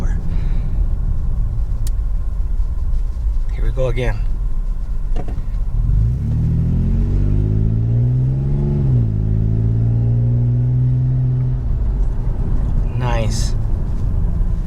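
A fifth-generation Toyota 4Runner with an aftermarket catback exhaust revs up into a deep, throaty roar, climbs and holds for several seconds, then settles. Someone speaks briefly before and after the rev.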